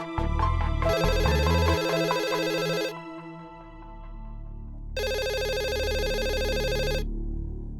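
A telephone rings in two long electronic bursts separated by a pause, loud and close, with some music-like tones at the start.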